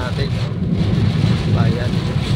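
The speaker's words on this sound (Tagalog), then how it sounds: "malakas ang ulan" Loud, steady rain roars with a deep rumbling underneath, while a voice speaks faintly beneath the downpour.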